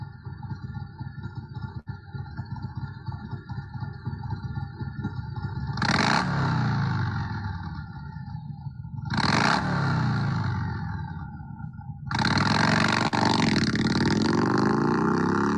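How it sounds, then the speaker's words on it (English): A Harley-Davidson motorcycle engine idles with a steady low rumble, then revs hard in three loud surges, the last one sustained. "this is the sound of a powerful and adventurous Harley-Davidson motorbike"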